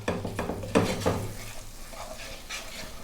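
Onions and garlic cook gently in a pan, with a soft sizzle under several clattering stirs of a utensil that thin out toward the end.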